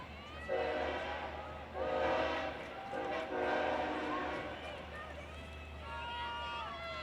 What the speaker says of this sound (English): as you hear the train going by here at Depot Road in Sayville